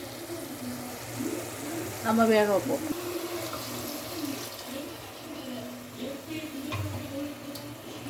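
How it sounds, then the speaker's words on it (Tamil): Water pours from a tumbler into a pressure cooker pot holding a goat meat and radish curry, a steady splashing trickle beneath a woman's nearby speech. "இதில் கொஞ்சம் 2 டம்ளர் தண்ணி ஊற்றிட்டு"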